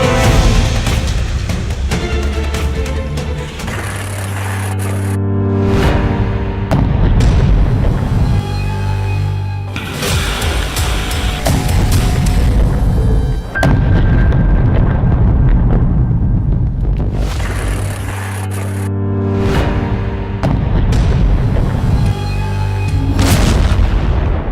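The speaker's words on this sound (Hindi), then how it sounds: "क्या इस धमाके ने एक नए युद्ध की शुरुआत कर दी?" Explosions in news footage of the Armenia-Azerbaijan conflict: several loud, heavy booms with rumbling tails break out at irregular intervals over a dense, continuous roar.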